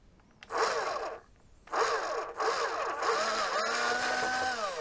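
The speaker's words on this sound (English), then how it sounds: "Now you need to drill your hole into the panel." A power drill fitted with a 4.5 mm bit bores into a Canon G5050 printer's plastic panel, with whining motor bursts that start, pause and resume, rising in pitch as it spins up.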